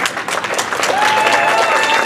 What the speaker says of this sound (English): You guys could just stand and stay standing for a minute while we give you a big round of applause.